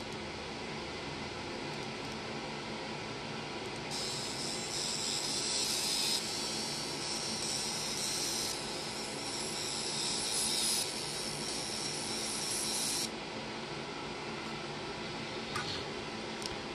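Fiber laser marking clear acrylic at full power, a steady high-pitched hiss and whine that starts abruptly, holds for about nine seconds with slight shifts in tone, then cuts off over a quiet room hum.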